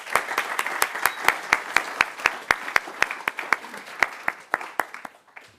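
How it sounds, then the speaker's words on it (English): Audience applause at a State of Open edX presentation, heard as rapid, evenly spaced sharp claps in a steady rhythm over a light bed of background clapping, slowing and thinning out toward the end. "I'd like to give them another quick round of applause"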